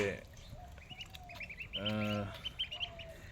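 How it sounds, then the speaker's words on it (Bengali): Khaki Campbell ducklings give a run of thin, high, repeated peeping calls in short bursts, with a lower, fuller call rising briefly in the middle, all close by against a soft background. "আপনারা দেখছেন খাঁকি ক্যাম্বেল হাঁসের বাচ্চা"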